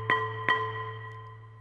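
Two mallet strikes on an orchestral marimba bar with its resonator covered, each a quick tonal hit about half a second apart, ringing briefly and fading into a steady low hum in a quiet room.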